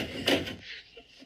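A door opens with a short burst of latch and creak in a quiet room, followed by faint low shuffling and stillness.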